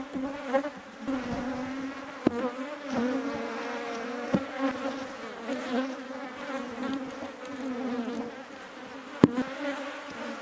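Honey bees buzz steadily from inside an opened beehive, a dense droning swarm at close range with a few sharp knocks and clicks of hive parts breaking through.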